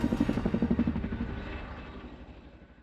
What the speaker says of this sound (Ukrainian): CH-47 «Чінук» немає собі рівних як найпотужніший гелікоптер у світі.